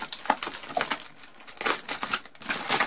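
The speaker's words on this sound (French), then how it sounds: "Fournisseur officiel de papier bulle." Crinkly bubble wrap packing material being crumpled and handled while a parcel holding books is unboxed, a run of close, dry crackling bursts and rustles with no talk over it.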